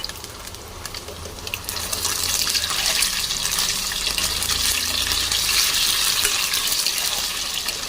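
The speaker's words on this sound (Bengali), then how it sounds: "এবার পনিরটা হালকা করে ভেজে নেব।" Paneer cubes fry lightly in hot oil in a kadai, giving a continuous close hiss and crackle that swells a little after the first couple of seconds, with no talking.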